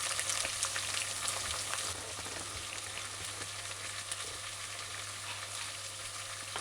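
Steady, dense sizzling of chicken deep frying in hot oil, continuous crackle and spatter with a low hum underneath, no voices.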